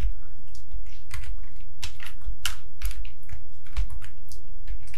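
Rapid typing on a computer keyboard during word-processor formula entry, with irregular clusters of sharp close-up key clicks and a few louder strikes over a low steady hum.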